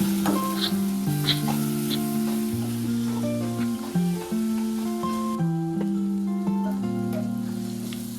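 Corn cobs being stirred into a thick gravy in a pan, with a soft sizzle and steady stirring scrapes running under loud background music.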